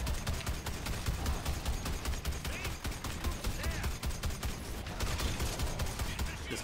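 Rapid gunfire in the video game Evolve as a player shoots at a minion: dense, continuous crackling shots over a low rumble, loud and sustained for several seconds.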